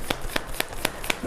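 An Osho Zen tarot card deck being shuffled close up, with five evenly spaced crisp riffling snaps in quick succession.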